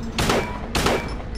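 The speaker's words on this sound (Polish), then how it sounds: "Strzały go bardzo spowalniają." Two sharp gunshot blasts from a firearm in the survival horror video game Silent Hill 2, spaced about half a second apart, each with a ringing tail, loud and close with no talking.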